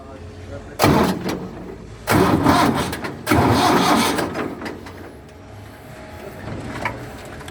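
Ford 6610 tractor engine cranking and starting, with three loud bursts of turning over before the diesel settles into a steady idle, close by and alone.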